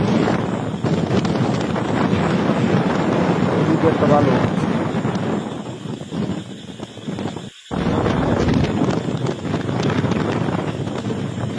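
Strong wind sweeps across a riverbank, rumbling and buffeting the microphone in a continuous roar, briefly cutting out once, while a person talks over it.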